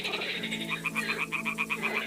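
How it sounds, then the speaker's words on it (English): Toads croaking at a nest in the Kingdom Come: Deliverance video game, a fast, rhythmic train of pulsing croaks over a busy, steady ambient background, fairly close and loud, with no speech. "Ah, the toads are croaking here."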